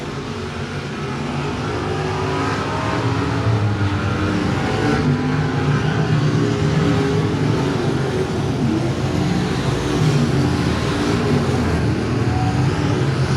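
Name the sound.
modified race cars racing to the checkered flag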